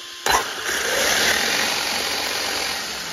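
The electric motor of a Traxxas Sledge XL RC car whirs up on throttle after a sharp click, holding a steady close, high-pitched hum with a slight rise and fall.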